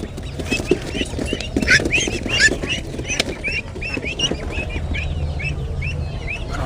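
Vigova ducks and chickens at a busy poultry market keep up a steady chorus of close quacks and clucks, repeated calls rising over a dense background of crowd bustle and clatter.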